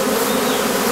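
Calm honey bees buzzing on a queen-rearing hive frame make a dense, steady, close hum with no voices.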